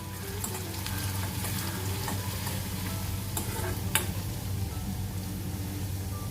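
Finely chopped onion sautés gently in a pan over very low heat, a steady soft sizzle running throughout with a few faint stirring clicks and scrapes, close and alone.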